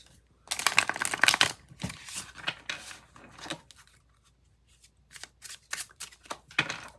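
Tarot cards are shuffled by hand in bursts of crisp riffling and flicking, loudest early on, then softer intermittent shuffles with short pauses.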